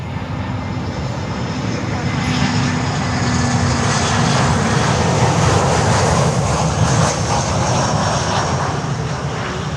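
A Frontier Airbus A321-200 airliner inbound from Guatemala City arrives at Miami airport, its jet engines a loud, steady roar that fills the whole stretch without a break and sits close to the listener.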